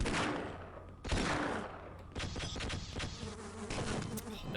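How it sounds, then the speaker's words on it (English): Insect-like bees in the Half-Life video game buzz in a dense, continuous drone, loud and close, with rapid crackling bursts mixed in throughout. "I'm doing everything I can to not die to those little bees"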